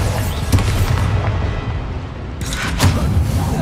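A Bombarda spell in the video game Hogwarts Legacy bursts as heavy booming explosions, a loud thump early on and a sharp blast near the end, over a rumbling battle background.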